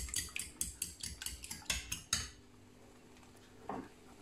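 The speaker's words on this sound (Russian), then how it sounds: "Теперь мы это все тщательно перемешаем и пожарим блинчики." A utensil beats pancake batter with soy sauce in a bowl, giving quick, steady metallic clinks and scrapes for about two seconds. The stirring then stops, leaving near-silence with one soft knock near the end.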